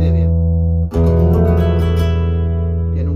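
A Casa Jubal cutaway acoustic guitar, amplified through a Fishman internal microphone and under-saddle pickup, rings out with sustained chords, a brief pause, then a loud fresh strum that decays slowly.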